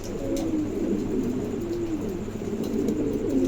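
A pair of large German cropper pigeons coo close by, a low continuous throaty burbling that rises and falls without pause, with faint rustling in the background.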